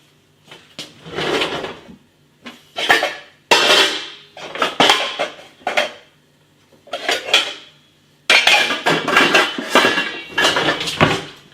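Someone rummages through pots and pans in a kitchen cupboard and digs out an old milk pan lid, with loud clattering metal bursts, knocks and scrapes in irregular clusters separated by short quiet gaps.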